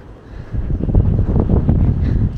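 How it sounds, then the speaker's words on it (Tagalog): A strong gust at a playground in India roars and rumbles against the microphone for a couple of seconds, low and buffeting, with no voices. "Oh, grabe ang hangin"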